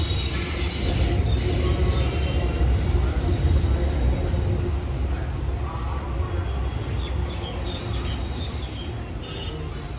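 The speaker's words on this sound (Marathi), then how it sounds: "मेट्रो चालली आहे पहा वरतून तिथे" A metro train runs on an elevated track above a temple area, producing a steady, loud rumble and rolling wheel noise that fills the whole stretch without pause, with faint squeal and a few birds in the background.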